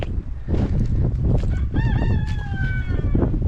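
A rooster crows once, a clear, rising-then-sustained call standing out over steady low rumble and background noise, nearby and fairly loud.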